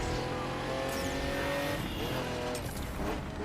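A Bugatti driven in The Crew 2 racing game, its engine roaring steadily up close while tires squeal and skid under hard braking, the pitch sweeping up and down as it slows.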